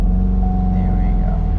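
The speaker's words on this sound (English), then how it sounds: "There is a severe misfire in this thing. Now it's running, but it's running rough." A truck engine with a severe misfire runs rough, a steady close-up rumble with an uneven low throb lasting the whole moment.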